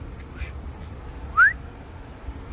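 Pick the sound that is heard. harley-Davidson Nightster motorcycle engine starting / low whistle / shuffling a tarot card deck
low whistle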